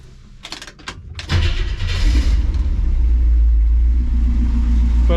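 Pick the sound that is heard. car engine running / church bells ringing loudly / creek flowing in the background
car engine running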